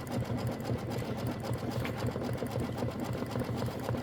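An embroidery machine stitches out a Kimberbell mini quilt block with a steady, fast, continuous mechanical chatter, close and even in level from start to finish.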